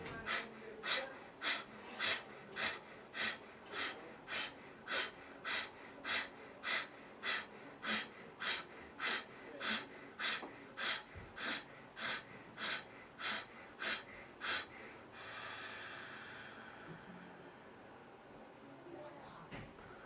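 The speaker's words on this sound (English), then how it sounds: "We're going to take our breath in passively and forcefully exhale." Forceful nasal exhalations in a pranayama breathing exercise, a steady series of about thirty sharp, evenly spaced puffs roughly every half second, close and clear, then settling into quieter natural breathing.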